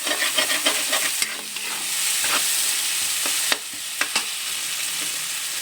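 Masala for palak paneer fries gently over low heat, a continuous close hiss of sizzling oil broken by spoon stirs and a few sharp scrapes against the pan.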